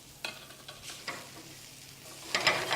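Scallions go into a pan of sautéing potatoes and beans, with soft sizzling and a few scraping stirs near the start, middle and end, building to a louder burst of stirring and sizzle at the close.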